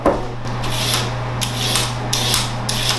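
A vegetable peeler scrapes carrots over napkin or parchment with rhythmic, close rasping strokes that repeat about every half second, fairly loud, with no talking.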